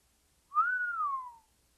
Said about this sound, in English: Robin let out a long, low whistle.